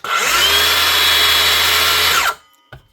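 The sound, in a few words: Dewalt 18-volt brushless circular saw running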